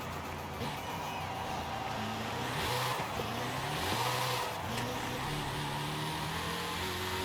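An early-2000s supercar, modernized and tuned in Forza Horizon 5, revs hard as it accelerates toward top speed, its engine note rising in steady pitch sweeps across several gear changes, loud and continuous throughout.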